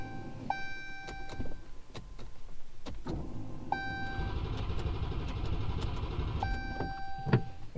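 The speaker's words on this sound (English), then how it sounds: "push the accelerator pedal to the floor, and it'll crank over, and we got some oil pressure" A supercharged Hellcat engine cranks over repeatedly without catching, each bout of starter whirring opened by an electronic chime tone, close and moderately loud in a garage.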